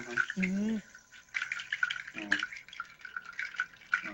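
Goat horns are played to imitate flowing river water, producing bursty watery gurgles and bright tapping trills that come and go, with a brief spoken voice near the start.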